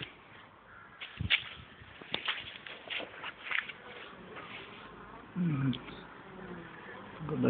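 Honeybees buzz around an open hive on a dull day, a soft, steady hum of many insects nearby, broken by occasional handling knocks and louder passes close to the microphone.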